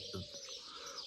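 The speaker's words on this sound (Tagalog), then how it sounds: "Narinig nyo yung mga huni ng ibon?" A faint, steady chorus of birds chirping in the distance at about 3:50 in the afternoon, with a soft cooing note near the start and no talking.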